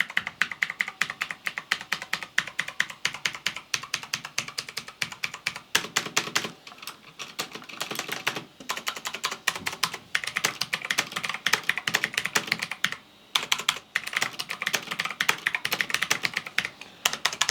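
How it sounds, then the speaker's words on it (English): Rapid typing on a Marvo KG965G mechanical keyboard with blue switches, loud, close, crisp clicky keystrokes in a fast continuous stream, with only a couple of brief pauses. "for typing wise, let's just give you a rough idea"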